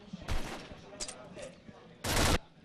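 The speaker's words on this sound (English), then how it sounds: "Doxu does get a headshot on the Aliens" Gunfire in the online shooter Combat Arms during a tournament grand final comes as two sharp bursts, a brief volley early and a louder, denser burst near the end, with faint game sounds between.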